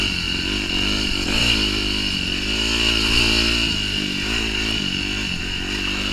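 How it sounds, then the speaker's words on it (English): A 2008 Yamaha YZ250F dirt bike rides over slick rock near Moab, its engine droning steadily and close throughout with small rises and dips in revs, no voices over it. "I am riding on a YZ250f."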